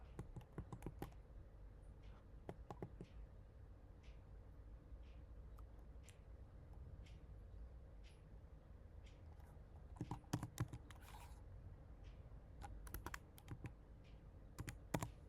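Steady computer keyboard typing while filling in a repair-request management form, with scattered light key clicks and a few denser flurries over a faint background hum.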